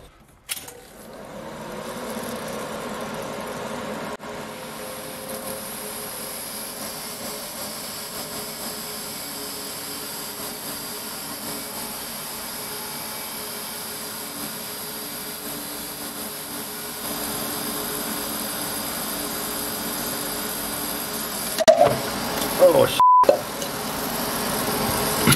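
A small pump circulates coolant through a unique homemade TIG torch cooler, giving a steady, even drone that holds for about twenty-five seconds, with a few faint clicks and knocks near the end.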